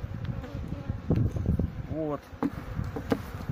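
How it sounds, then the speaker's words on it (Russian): Honey bees buzz around an open hive while frames are shifted during a late-June honey harvest, a constant insect drone beneath a man's speech and some handling knocks. "И вот такими движениями сбиваем пчел."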